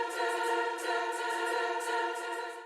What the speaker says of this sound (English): Without this, the choir would sound like this.